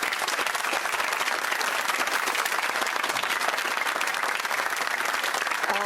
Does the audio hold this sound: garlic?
no